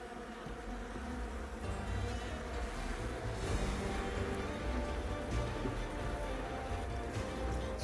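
Honey bees buzz around an open hive, making a soft, continuous drone of many wings with a few faint ticks and rustles mixed in.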